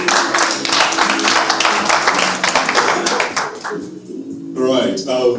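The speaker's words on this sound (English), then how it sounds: "Round of applause." An audience at a speech and book talk on practical skills gives a round of applause, a dense patter of claps for about three seconds with voices talking over it, then trailing off before speech resumes.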